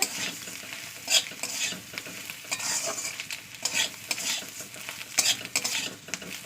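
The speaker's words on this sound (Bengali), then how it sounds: "দিয়ে ভালো করে একটু ফ্রাই করে" Egg and puffed rice frying in a pan, with a continuous sizzle broken by repeated scraping stirs of a spatula across the pan, close and moderately loud, without speech.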